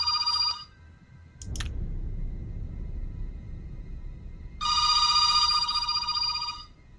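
Mobile phone ringtone sounds in two loud bursts, one brief and one lasting about two seconds, separated by a stretch of low rumble and a sharp click.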